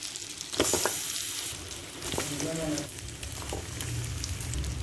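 Mango pieces and garlic for a mango pickle hit hot oil and fry, a steady close sizzle with a sharp burst at first, then a continuous crackle as they are stirred.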